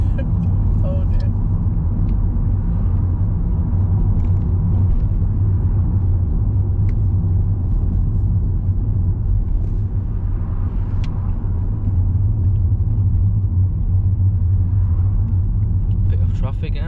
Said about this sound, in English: Bit of traffic, yeah?